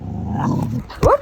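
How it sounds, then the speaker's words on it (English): A dog growls in a low, rumbling stream at close range during rough play. A short exclaimed voice cuts in near the end. "Oh, real fierce dog."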